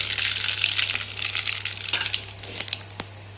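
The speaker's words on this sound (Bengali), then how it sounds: "তেলটা গরম হয়ে গেছে, এখনও দিয়ে দেবো কিছু সরিষা, এই দেখেন" Mustard seeds crackle and sizzle in hot oil in a pan, a dense hissing spatter with scattered sharp pops, close and steady, without any talk.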